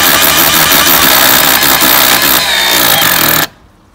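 A loud, steady whining drill runs continuously for several seconds, then cuts off abruptly near the end, leaving near silence.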